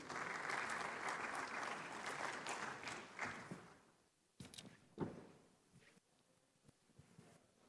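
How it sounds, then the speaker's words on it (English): Warm applause from a large conference audience at a banking event in Ghana greets a moderator, loud and dense for about four seconds before fading into scattered claps, shuffling and a few knocks. "Please give her a warm round of applause."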